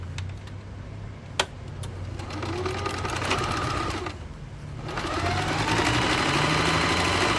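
A sewing machine stitches a fabric strip onto a small pouch, a rapid mechanical whirr that pauses and restarts, growing steadier and louder toward the end.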